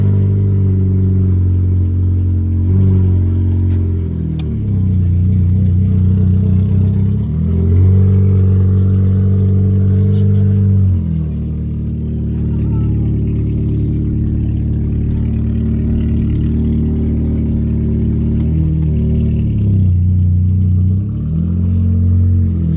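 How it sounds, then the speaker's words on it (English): A 2003 Oldsmobile Alero running headers only with the exhaust deleted drives with a loud, raw, deep engine roar that rises and falls as it shifts and revs through the drive. "Okay, so guys, we're gonna test drive it."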